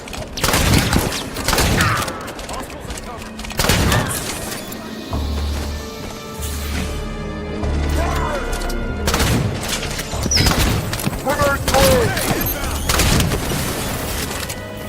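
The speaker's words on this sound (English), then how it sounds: "They're shooting turrets." Turrets firing in the Halo 5 Guardians video game, with heavy bursts of gunfire, booms and crashing impacts repeating throughout amid battle noise and game music.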